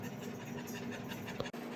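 A dog pants steadily after chasing his ball in a garage, a quiet, rapid, continuous breathing rhythm heard close by without any talk.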